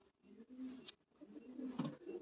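A female pigeon coos softly in short, low bursts close by, with brief pauses between the calls.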